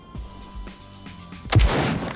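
An AWM rifle in the survival game Hurtworld fires several spaced shots, then a louder, closer blast with a short echoing tail, no talking.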